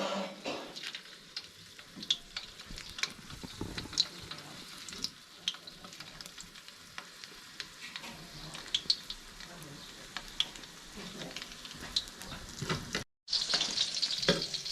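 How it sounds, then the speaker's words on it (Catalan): Longaniza sausage frying in a pan for a pork stew, a continuous crackling sizzle with scattered pops and occasional stirring, a brief cut near the end, then sizzling resumes. "Ara anem a fregir la llenguanissa."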